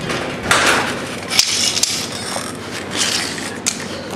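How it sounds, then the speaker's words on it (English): Mechanical creaks and clicks of a door being worked open, with a few sharp latch knocks over a low rumbling background. "this door is really hard to open one-handed"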